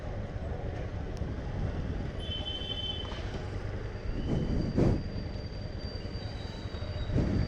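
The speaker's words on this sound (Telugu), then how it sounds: "ఇప్పుడు బండి కూడా వస్తుంది అనుకుంటా." A train rumbles past nearby as a broadband, steady roar with heavier surges of wheel and car noise toward the end, heard from a roadside during a motorcycle ride.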